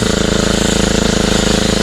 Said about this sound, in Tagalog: Miminor nyo lang yung makina, saktong bumubuga lang siya, tapos mabagalan ang lakad.